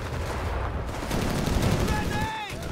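Infantry gunfire crackles through a Company of Heroes 3 battle between Rangers and Fallschirmjaeger troops, a dense steady mix of shots and blasts with a rising whine near the end.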